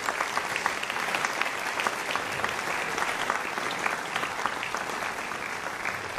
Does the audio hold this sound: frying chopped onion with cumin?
no